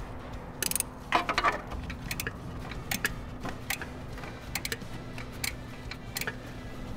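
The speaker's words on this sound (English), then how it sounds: "And now we grab our 19mm ratcheting wrench and come in from the back under the throttle assembly again." A 19mm ratcheting wrench tightening a coolant temperature sensor on a Chevy Impala, heard as sparse, faint, close clicks in short irregular bursts over quiet background noise, without speech.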